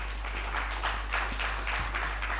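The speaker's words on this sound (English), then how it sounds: "Please, let's keep the applause going for this distinguished Nigerian" Audience at a Nigerian anticorruption policy conversation keeps up steady applause for an arriving guest, many hands clapping in an even, continuous wash over a low hum, with a couple of faint thumps.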